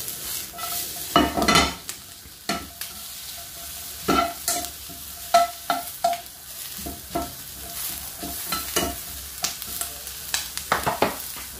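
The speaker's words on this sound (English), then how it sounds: "it's like roasting them off in the pan" Vegetables roast in an oil-filled pan for a meat-free couscous, a steady sizzle broken by repeated stirring scrapes and utensil clatter against the pan, fairly close and without talk.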